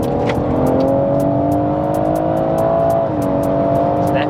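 A Stage 1 car, a VW Golf GTI TCR or BMW M140i, revs up loudly under acceleration in sixth gear, exhaust rumbling steadily with a rising pitch and a brief dip as it shifts gear.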